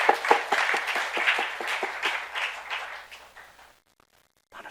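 A youth church congregation claps in a sermon service. The claps start loud and distinct in a fairly regular rhythm, then thin out and fade to near silence, with a faint clap returning at the end.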